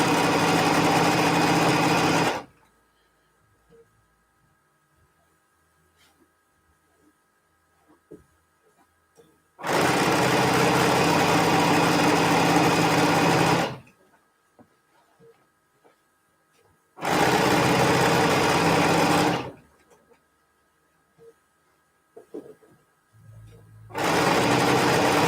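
A sewing machine bastes a pillowcase in three long, loud, steady runs, each several seconds long and separated by quiet pauses, with a fourth run starting at the end.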